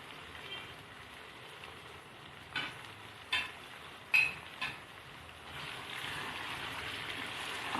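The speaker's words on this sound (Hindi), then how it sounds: "अदरक और लहसुन के साथ मैं भून लूँगी 1 मिनट के लिए कलेजी और गुर्दों को अच्छी तरह से।" Garlic and ginger paste frying with mutton liver and kidney for a curry, a steady soft sizzle with a few brief clinks of a stirring spoon against the pan partway through.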